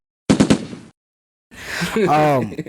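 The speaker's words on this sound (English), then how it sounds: "For that, get some gunshots and all." A quick burst of three or four gunshots rings out, then a pause, followed by a drawn-out, pitch-bending vocal sound.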